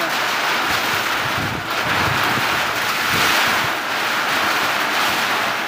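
A heavy rainstorm pounds a house in a steady, loud roar of rain and gusting wind that blows across the microphone, continuous and close with slight swells, and no talk.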